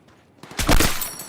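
Sniper rifle shot landing a headshot in a video game: near silence, then a sharp loud crack with a booming burst and a short ringing tail.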